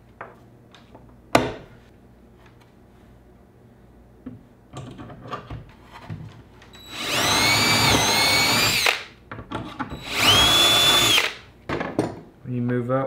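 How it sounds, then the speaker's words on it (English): A drill bores shelf pin holes for dowels through a Kreg jig in a custom cabinet panel, two loud whirring bursts of about two seconds each, with quieter clicks and handling knocks around them. "I'm going to use the Craig jig for putting little holes so you can put the dowels to hold the shelf"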